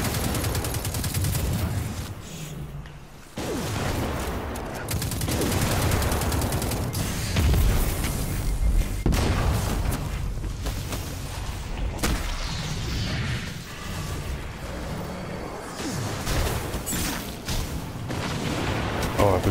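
Gunfire and explosive booms in the Destiny 2 video game, loud, dense bursts of shots and impacts rolling on continuously with game effects layered throughout.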